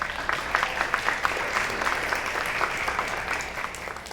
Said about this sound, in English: so if we can give them a quick round of applause.